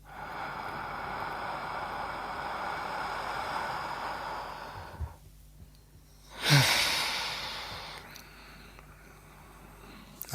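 Slow, deep breaths during a breathwork exercise, a long soft exhale sustained for several seconds, then a pause and a sharper, louder breath, heard close over faint background hiss.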